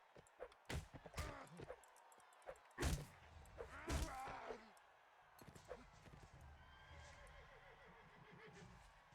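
Horse whinnies and hoof thumps from the Nova Aetas video game, several sharp neighs and heavy clops in quick bursts, followed by quieter game sounds with a voice talking over them.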